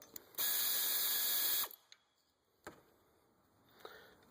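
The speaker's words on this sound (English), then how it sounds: "we're going to remove these two 12mm bolts here and get this bracket out of here" Ratchet wrench working 12mm bolts on an engine bracket of a Mazda Protege 1.6L DOHC, one steady clicking run followed by a few single faint clicks and clunks, close and alone.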